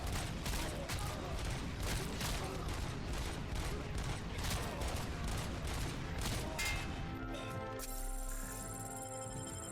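RoboCop's gun fires nonstop in a video game, a loud, rapid, steady stream of shots with no pause to reload, ending in a short mechanical whirr with a tonal hum.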